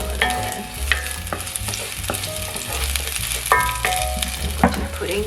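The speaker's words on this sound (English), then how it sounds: "First, I'm going to fry half of the scallion that we cut." Cut scallions frying in a pan for a Mongolian beef stir fry, a loud close sizzle with repeated clinks and scrapes of a utensil against the metal, no speech.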